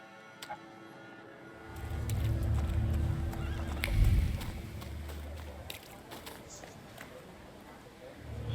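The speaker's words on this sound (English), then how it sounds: "I meant to take the horse out for a ride" Horse in The Thaumaturge video game, a whinny and hoofbeats rising from a quiet start into a loud rumbling stretch with a peak near the middle, then easing off.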